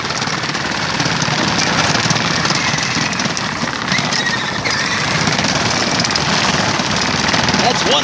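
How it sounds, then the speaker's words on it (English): Fisher-Price Hurricane toy Jeep rattling and rumbling steadily over bumpy ground, a loud continuous clatter with motor whine that stays dense throughout. "That's one bumpy Jeep."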